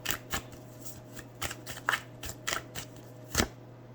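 Angel cards being shuffled close up, a series of quick, crisp riffling bursts in an uneven rhythm over a faint steady hum.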